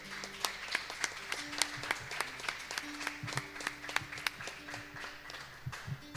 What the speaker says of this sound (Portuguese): aplaudam ao Senhor